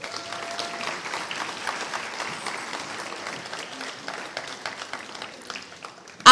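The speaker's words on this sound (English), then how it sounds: "Applaud Del Rosa, please." A crowd at a WFCP-CCCJ World Congress 2024 award presentation keeps clapping for a third-place community college staff honoree, with moderate, steady applause that lasts several seconds.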